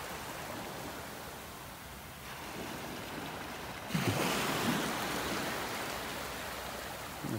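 Ocean surf washes steadily onto a beach in North Naples, Florida under a blue sky, a broad, continuous hiss of breaking water that swells louder partway through, with no voices.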